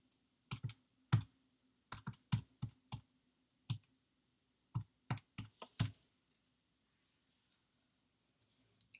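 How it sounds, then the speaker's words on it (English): Calculator keys are tapped out in quick irregular bursts, a dozen or so close plastic clicks with brief pauses, over a faint steady hum and no talking. "I can type that into the calculator."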